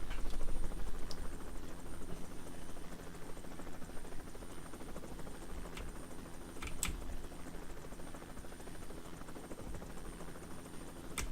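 Helicopter rotor in a video game, a faint steady whirring drone running throughout, with keyboard typing clicks and occasional sharp taps over it and no talk.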